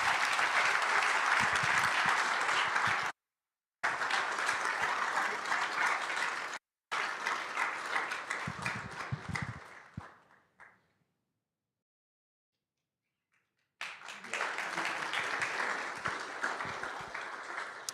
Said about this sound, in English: So I'll just give this group a round of applause.